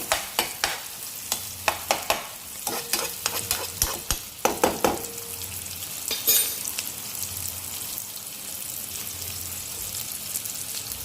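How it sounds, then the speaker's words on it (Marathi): Chopped onion frying in hot tempering oil while being stirred, with a steady close sizzle broken by a series of sharp scraping and clinking strokes that thin out after the first few seconds. "तडका देऊन कांदा आपला चांगला लाल काढायचा"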